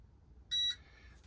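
Single short electronic beep from a weighing scale in a composites workshop, clear and steady against a quiet background.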